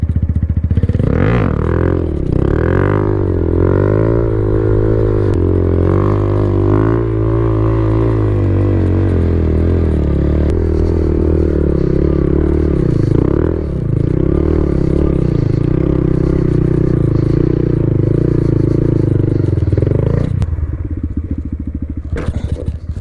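A 2017 Harley-Davidson Low Rider S (FXDLS) motorcycle in wheelie practice roars loud and close, its engine revving up and down again and again before cutting off near the end.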